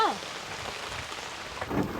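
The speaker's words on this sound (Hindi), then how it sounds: "बारिश बहुत हो रही है" Heavy rain pours steadily in a continuous wash of close, fairly loud noise around a parked motorcycle, with a brief swell near the end and no talk.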